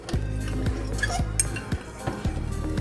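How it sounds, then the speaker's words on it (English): A fork stirs a seasoned mixture with black pepper in a bowl, making rhythmic close clinks and scrapes at roughly half-second beats against the bowl, with a faint kitchen background. "I'm gonna use a fork and give this a good stir to combine."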